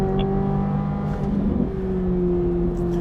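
A 2023 Corvette Z06 with a flat-plane crank engine runs at a loud, steady high-revving drone with strong harmonics, briefly rising and shifting pitch midway, with no talking over it.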